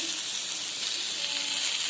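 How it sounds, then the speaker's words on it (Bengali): Pointed gourd (potol) fries in a pan, giving a steady, close, crackling sizzle of hot oil that runs evenly throughout. "দেখুন, আমার পটলগুলো ভাজা ভাজা হয়ে গেছে"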